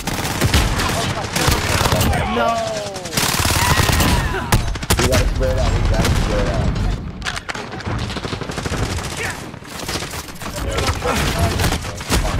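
Rapid automatic gunfire in Modern Warfare, loud continuous bursts filling nearly the whole stretch with short gaps between volleys.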